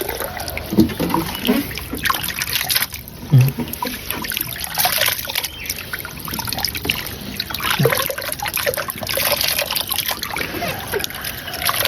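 Black grapes are washed by hand in salted water, with continuous close sloshing, trickling and splashing.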